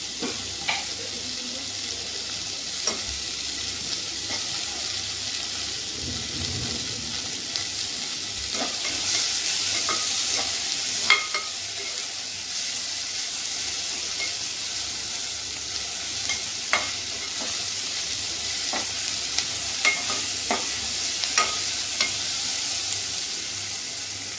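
Onions and tomatoes fry with salt in a pan while a spoon stirs them: a continuous close sizzle broken by repeated scraping clicks of the utensil, with no talking.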